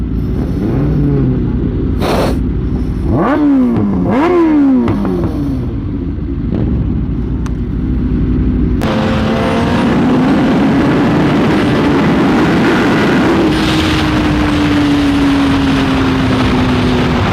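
Kawasaki ZX10-R sport motorcycle ridden in a group ride in low power mode, its engine revving up and down in loud rising sweeps over steady wind and road roar, with a sharp shift in tone partway through.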